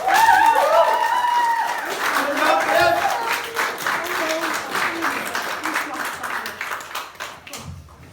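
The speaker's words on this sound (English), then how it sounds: "Give a round of applause, guys." A talent show audience claps after a performance, steady applause that fades slowly, with voices talking and calling out over it.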